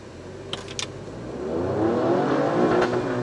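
An Alfa Romeo Stelvio Quadrifoglio, an all-wheel-drive performance SUV, pulls away hard from a green light, its engine building from a quiet idle into a loud, rising, sustained rev with a couple of brief clicks beforehand.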